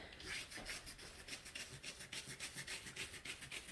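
Soft, rhythmic rubbing strokes as crayon wax residue is wiped off a diamond painting canvas, a quick repeated scratchy back-and-forth, fairly quiet and close with no talking.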